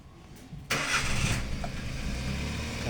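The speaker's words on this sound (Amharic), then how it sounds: "ይሄ አሁን እኔ ኮምፒውተር ገጥም ያለው መኪና ሞተር አስነሳለሁ" A car engine with computerised engine management cranks briefly, then catches abruptly and settles into a steady, close idle with a broad, even rumble.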